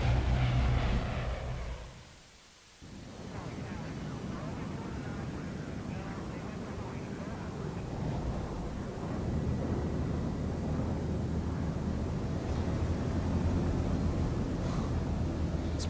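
Steady low engine drone inside an airplane cabin in Splinter Cell: Blacklist, filling the scene with a brief dip near the start, then continuing loud and constant with people talking over it.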